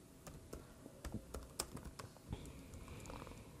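Rapid, irregular keystrokes on a computer keyboard while SQL database connection code is typed, close and fairly quiet, with bursts of clicks and short pauses and no talking.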